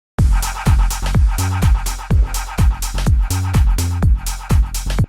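A punchy lead bounce built from a one-shot sample with a volume LFO, pumping in a fast repeating rhythm of short bright stabs over deep booming hits, loud and alone.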